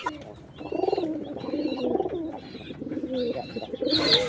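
Pigeons in a loft cooing close by, a few rolling, throaty coos in a slow repeating rhythm with faint chirps and no talk.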